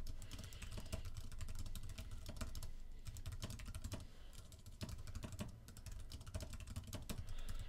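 Typing on a computer keyboard, with rapid, irregular clicking keystrokes close by, continuing throughout in short bursts with brief pauses.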